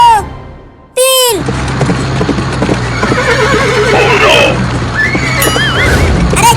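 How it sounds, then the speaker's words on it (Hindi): Horses in a race neigh loudly, with a sharp whinny after a brief quiet start, then wavering cartoonish neighs and clip-clop under continuous lively background sound and voices. "बाबू का घोड़ा तो पहले ही रेस में आगे हो गया"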